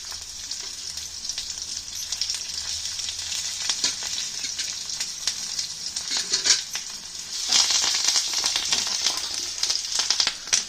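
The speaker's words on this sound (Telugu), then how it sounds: "ఇదిగోండి పోపు చిటపటలాడుతుంది." Spices tempering in hot oil for a vitamin C and iron-rich dish, a continuous close crackle and sizzle with dense popping that grows louder toward the end, and no voices.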